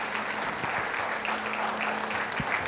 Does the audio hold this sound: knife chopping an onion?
no